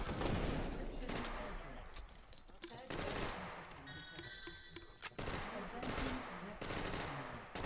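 An MGL grenade launcher fires in a video game match: rapid bursts of gunfire repeat across the stretch, loud and dense, with game effects and a commentator's voice mixed in.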